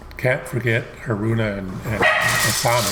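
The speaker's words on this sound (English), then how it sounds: "Excuse my dogs" Several dogs bark and yip near a man who is reacting to a music video and talking over them, with short sharp barks scattered through his speech.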